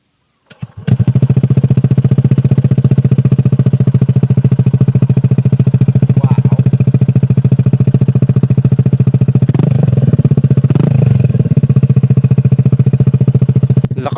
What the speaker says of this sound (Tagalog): So, sound check tayo ng walang